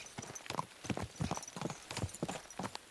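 Horse hooves clip-clop steadily as a rider moves along in Kingdom Come Deliverance II. The footfalls are close and rhythmic, with a quiet background and no talk.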